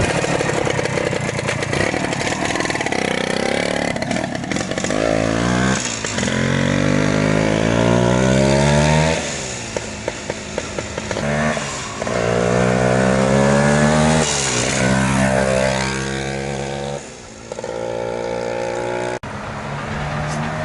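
A 1975 Kawasaki F11B motorcycle engine runs loudly and up close, revving up and down in repeated rising sweeps with brief dips between throttle blips.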